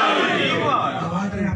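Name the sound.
audience chanting slogans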